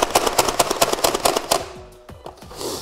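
A Nerf Elite 2.0 Ranger PD-5 pump-action dart blaster is slam fired, loosing a rapid close string of about a dozen sharp pops, followed by a few slower clacks of the pump and plastic handling.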